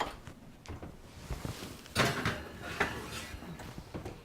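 In a home kitchen, an oven door clunks open and shut with several knocks and a louder thud midway, followed by faint rattling, all fairly close and moderately quiet.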